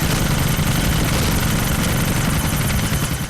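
A helicopter in a GTA game roars loudly and steadily, with a continuous rotor and engine drone filling the whole stretch.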